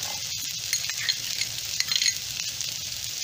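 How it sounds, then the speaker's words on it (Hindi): Chopped ginger sizzles and crackles in hot oil with softened, translucent onions in a pan, a steady frying hiss with occasional stirring scrapes and light clinks, close and continuous with no talking. "और कटे हुए हरी मिर्च डाल देती हूँ और इसे एक मिनट के लिए सौते करेंगे"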